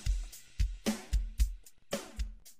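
Drum loop processed with OTT multiband compression in a production breakdown, punchy kicks and bright snare hits repeating in a steady groove, close and dry with no talking.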